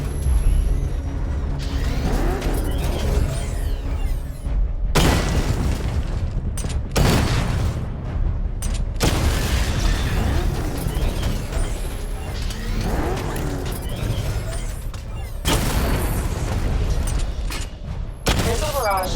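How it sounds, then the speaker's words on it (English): Batman Arkham Knight video game: missile barrage and target explosions, heavy booms and mechanical clanks repeating through a dense, loud combat sequence, with an announcer-style voice and bursts of impact noise. "Destroy targets to charge up weapon energy and activate missile barrage."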